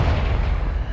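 A Confringo blasting spell bursts in Hogwarts Legacy, a loud, deep explosive boom with a heavy low rumble that holds steady through the whole second, close and alone with no voices.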